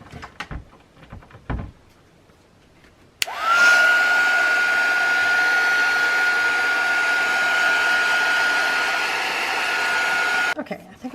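Heat dryer drying paint on a craft journal page: after some brief handling noises, it switches on with a click and blows a loud, steady whirring whine for about seven seconds before cutting off.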